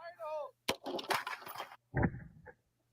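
An AK rifle fires a single sharp shot during test firing, a brief crack set among voices talking before and after.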